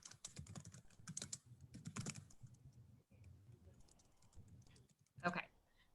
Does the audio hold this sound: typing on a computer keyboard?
yes